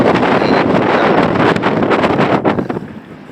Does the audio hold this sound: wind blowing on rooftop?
yes